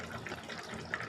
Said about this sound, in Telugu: సరిపడా కొద్దిగా వాటర్ వేసుకొని కొంతసేపు మగ్గించుకుందాం.